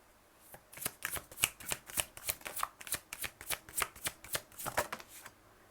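Tarot deck shuffled by hand, a rapid run of crisp, close riffling flicks and snaps in a steady rhythm, slowing near the end, with no talking.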